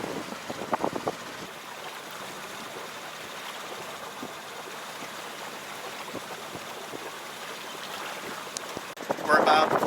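A sailboat under sail in light conditions off Catalina Island, heading toward Avalon, with steady broadband water rush and wind noise on the microphone throughout, a few soft knocks early on and a louder gust near the end.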